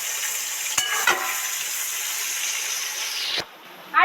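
Pointed gourd and eggplant fry in hot oil, giving a steady close sizzle and hiss broken by a few sharp stirring clacks. The frying noise drops away briefly near the end and then returns.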